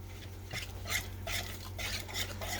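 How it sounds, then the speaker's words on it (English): A spoon stirs instant coffee powder and vanilla extract into thick fudgy brownie batter in a bowl, giving soft repeated scraping swishes at a steady rhythm, close and fairly quiet, with no talking. "3 teaspoons of instant coffee powder, 1 teaspoon of vanilla extract. I'm going to stir that in a little bit."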